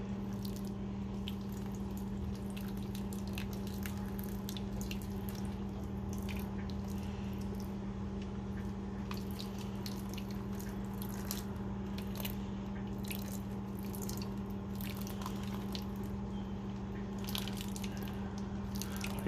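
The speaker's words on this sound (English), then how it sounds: "So I'm just gonna add some water slightly." Water trickles and drips onto soil with soft wet squishing sounds, steady and close, over a low constant hum.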